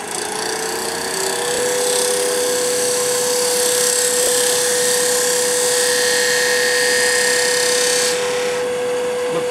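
A wood lathe spins at high speed while a cutting tool takes a pass across the end grain of a turned four-sided jar, giving a steady, loud whirring hum with a sustained tone that drops away near the end.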